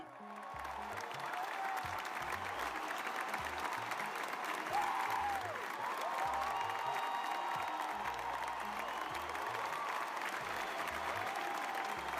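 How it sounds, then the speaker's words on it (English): A canned applause sound effect plays quietly for about twelve seconds. It is a steady wash of clapping with light cheering and a whoop or two mixed in. "Round of applause."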